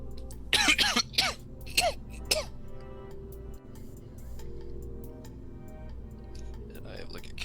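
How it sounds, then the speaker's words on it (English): A person with a bad cough hacks and clears their throat several times in quick bursts near the microphone, then a quieter stretch of room sound follows. "I have like a killer cough"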